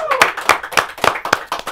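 Close, sharp clapping from a small audience at a young people's gathering for Orvi and Yosua, about seven distinct claps in a steady rhythm, loud and near.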